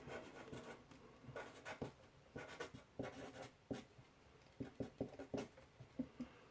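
Pen or marker strokes writing on a board or paper while working through the slopes of parallel lines, with quick scratchy bursts coming in short irregular clusters, close and fairly quiet, and no speech.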